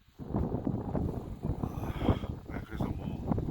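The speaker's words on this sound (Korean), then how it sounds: "새벽에 또 이렇게 바람이 세게 붑니다" A strong gale of up to 101 km/h blows at night during a wild boar hunt in Argentina, a continuous low, rumbling roar that buffets the microphone and swells and dips, with no voices.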